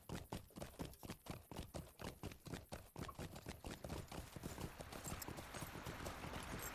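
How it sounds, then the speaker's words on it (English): Horse hooves clip-clop at a brisk, regular trot as a rider moves through a town in the online game The Lord of the Rings Online, close and evenly paced, then blur into a denser patter as the horse speeds up. "We'll use a regular horse in town."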